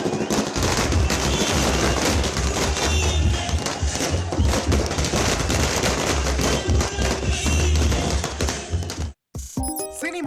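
Firecrackers bursting outside the Nellai Ram Cinemas theatre during a celebration by fans, a dense, loud, continuous crackle of rapid pops and bangs that runs for about nine seconds, then a sudden brief silence and a few scattered bursts.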